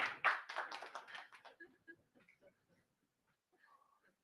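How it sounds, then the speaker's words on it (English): A brief burst of clapping from a small crowd at a motivational talk, loud at first and quickly thinning out within a second or so, then near silence with faint scattered sounds. "Y'all should clap for that."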